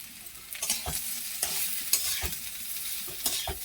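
Hog plum pickle being stirred with sugar in a pan, with soft intermittent scraping strokes over a light sizzle, close and fairly quiet, no voices.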